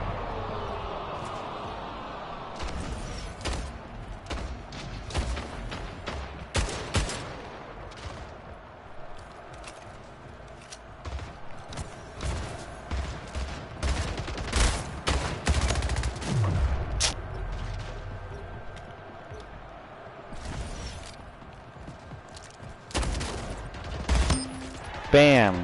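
Sporadic gunshots from the sci-fi shooter game Splitgate, irregular cracks and short bursts scattered across a busy in-game soundscape, with occasional voice chatter underneath.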